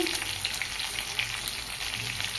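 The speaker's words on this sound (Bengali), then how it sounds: "আলু হালকা ভেজে নিয়েছি।" Potatoes fry lightly in a pan for a Bengali katla fish head and kalmi greens dish, with a dense, continuous close sizzle and faint stirring.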